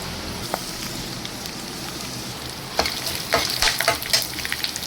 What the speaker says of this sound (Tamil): இந்த ஃப்ளேவர்ஸ் தாளிக்கிறோம் பாருங்கள்.